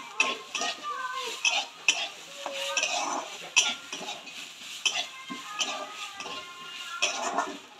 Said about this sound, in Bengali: এইবার আমি এর মধ্যে যে আলুটা ভেজে রেখেছিলাম দিয়ে দেব। দিয়ে এটা নাড়তে থাকবো।